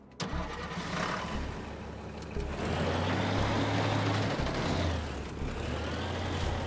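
A bulldozer engine in the game Teardown cranks and catches, then settles into a loud, steady diesel rumble that swells and holds close by, with no talk.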